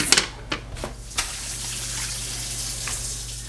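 Tap water runs steadily into a small cooking pan in a home kitchen while pasta is being prepared, a continuous close gush after a few clattering knocks at the start.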